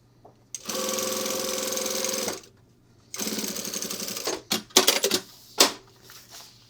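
A sewing machine stitches a zipper piece onto binding tape in two steady whirring runs of about two seconds each, followed by a few short bursts and clicks as the stitching stops and starts.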